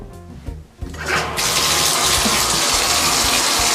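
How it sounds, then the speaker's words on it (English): A bath tap gushes at full flow into a bathtub, a loud, steady rushing roar that starts after a few brief knocks and keeps going to the end. "All right, Jeffy, I started your bath, but I didn't turn off the water."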